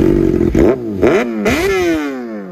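A Kawasaki Ninja ZX-6R sport motorcycle engine revs hard in several quick, rising blips, then the pitch sweeps down as it settles, loud and close.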